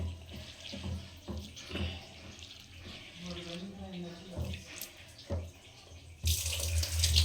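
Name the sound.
washing lentils (dal) in water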